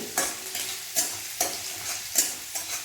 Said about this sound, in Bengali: রিফাইন তেল দিয়েছি আমি, একটু ভেজে নেব